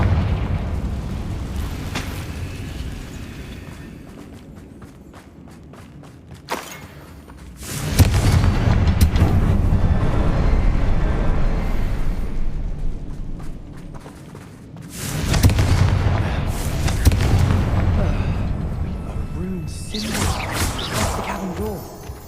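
Deep booming blasts from the Confringo spell in the Hogwarts Legacy video game, two heavy rumbling explosions several seconds apart, loud and close, with game sound between them.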